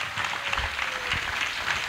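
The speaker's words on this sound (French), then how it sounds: "Clap for Jesus" Church congregation at a salvation and healing weekend service claps together, a dense, even wash of hands that stays steady and moderately loud for a couple of seconds.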